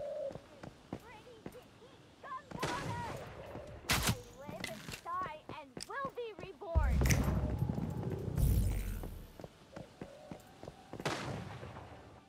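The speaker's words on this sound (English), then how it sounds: "I hear the shots going off." Scattered gunshots in the survival shooter Once Human, sharp isolated cracks at intervals amid game ambience with birdlike chirps, while a person talks over much of it.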